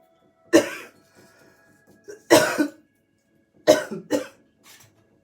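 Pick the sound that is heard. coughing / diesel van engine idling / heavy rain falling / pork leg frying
coughing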